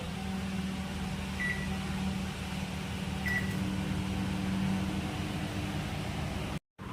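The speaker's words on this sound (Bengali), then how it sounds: "একটু মাইক্রোওভেনে দিয়ে দিচ্ছি" A domestic microwave oven hums steadily and loudly throughout, a constant whirring drone heating cooked rice, with a couple of faint high chirps and a brief dropout near the end.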